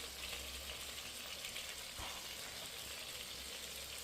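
Chopped tomatoes and fennel seeds frying in a pan for egg do pyaza, giving a steady, soft sizzle and crackle throughout, with one brief clatter midway and no talking.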